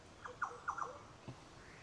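Several short chirping calls from unidentified birds near mangroves at Somerset Beach on Cape York, Australia, heard overnight: a quick cluster of faint, rising notes followed by one fainter call, against quiet background.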